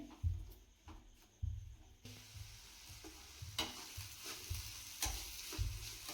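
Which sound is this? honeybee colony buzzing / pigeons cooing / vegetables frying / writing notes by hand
vegetables frying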